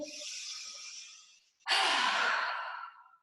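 Two deep, audible breaths during a yoga exercise, a long airy exhale followed after a brief pause by a stronger, louder breath, close and alone.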